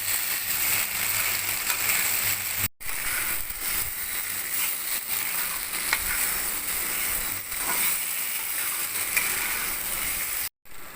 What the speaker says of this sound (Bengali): আলুটা এবার মশলাটা ভালো করে ভেজে নেব।